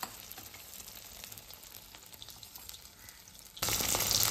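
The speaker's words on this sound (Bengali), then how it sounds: "এখানে এখন ভাজা চলছে ক্যাপসিকাম" Capsicum frying in a pan gives a soft, low sizzle that rises suddenly into a loud, bright crackle near the end, with light stirring noises.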